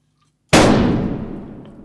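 A single sharp gunshot sound effect in a comedy detective story, one loud crack that starts abruptly and then fades in a long decaying tail, standing alone with no talk.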